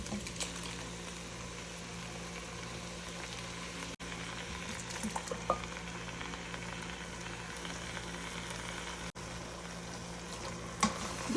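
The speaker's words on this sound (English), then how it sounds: "Give that a good stir." A pot of chili with diced tomatoes and their juice is stirred, giving a faint, continuous wet sloshing and sizzling over a low steady background hum.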